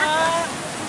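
Rain and wind in Ca Mau, Vietnam: a loud, dense broadband hiss of rainfall and gusting air, steady and close, with faint whistling tones early on.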